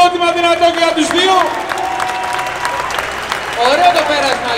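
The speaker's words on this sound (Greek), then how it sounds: "Πάμε ένα χειροκρότημα δυνατό για τους δύο." Crowd applause at a drift race event in Greece, spread-out clapping and cheering under a loudspeaker announcer's voice, with tyre squeals or engine whines sweeping across.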